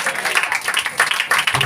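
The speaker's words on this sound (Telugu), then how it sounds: "అందరూ గట్టిగా చప్పట్లు కొడదాం ఒకసారి." A church congregation claps loudly in unison during a sermon, a brief burst of dense, rhythmic hand claps close by.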